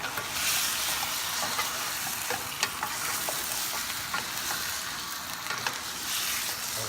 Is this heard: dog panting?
no